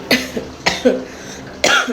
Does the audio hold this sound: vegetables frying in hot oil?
no